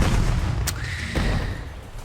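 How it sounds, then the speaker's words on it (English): An anti-tank grenade explodes in the video game Rattenreich, a deep booming blast with a long rumbling tail, and a sharper crack briefly cuts through the steady rumble. "maybe I can throw an anti-tank grenade over here and see if that blows up the trench"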